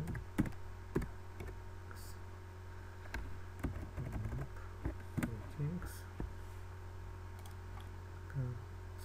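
Keys typed on a computer keyboard while entering a group policy name, a scattered run of soft clicks and taps under a steady hum, fairly close and quiet, with a person speaking over the typing.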